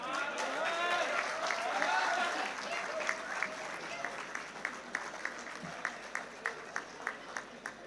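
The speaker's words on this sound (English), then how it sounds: "Huge round of applause to each and every one of you." Graduates at a university campus ceremony receive applause from the audience, a loud sustained wash of clapping that thins into a few scattered, rhythmic claps toward the end, with some crowd murmur.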